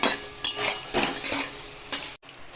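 Goat liver pieces are stir-fried in a pan, with a soft sizzle under repeated scraping and clinking strokes of a utensil, ending abruptly.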